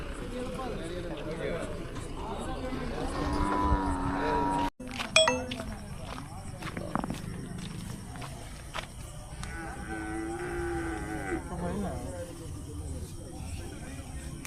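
Cattle low intermittently at a night cattle market, with moderate moos under frequent nearby talk, clinks and passing vehicle noise.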